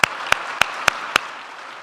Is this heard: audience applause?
yes